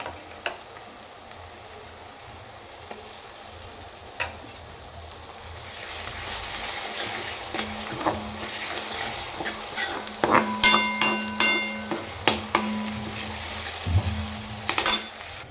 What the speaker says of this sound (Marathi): आता यात आपण अद्रक लसूणची ही 2 चमचे ही पेस्ट टाकून घेणार आहोत।